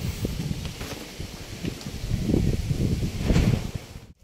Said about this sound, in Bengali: কালবৈশাখী ঝড় নেমে গেছে।